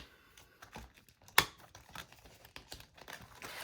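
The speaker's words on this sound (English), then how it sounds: "We're taking all of the envelopes out of our binders." Envelopes are pulled from cash budget binders, giving soft crinkling and rustling of paper with one sharp snap of a binder ring or plastic sleeve, quiet and close, with no talking.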